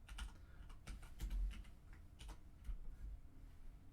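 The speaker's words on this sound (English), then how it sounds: "So we're going to type in winner here." Keys on a computer keyboard clatter in short irregular bursts of quick taps, close and fairly soft, while a word is entered into a spreadsheet, with no voices.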